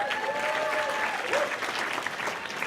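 An audience at a film event applauds in a dense, steady wash of clapping that stays close and loud throughout, with a few faint voices mixed in.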